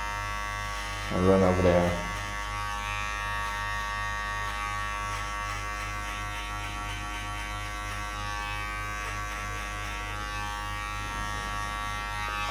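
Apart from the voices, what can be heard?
electric hair clippers with number 2 guard cutting hair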